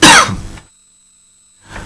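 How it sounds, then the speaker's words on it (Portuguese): A single loud, close cough from a morning radio news presenter, a sharp burst lasting about half a second, followed by near silence and a faint breath at the end. "perdoe-me a tosse"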